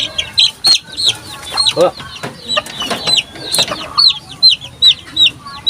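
A fighting rooster clucks repeatedly up close in short, rhythmic bursts, joined by other scuffling and a brief spoken word in the background.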